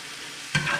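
Chopped cheese cooks on a griddle with a faint low hiss at first, then a sudden louder burst of sizzling and scraping as the meat is pressed down, close by, with no voices.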